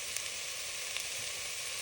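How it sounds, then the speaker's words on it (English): Pasta sauce hits a hot pan and sizzles, producing a bright, even hiss with a few tiny pops, steady and close throughout. "Add in the pasta sauce."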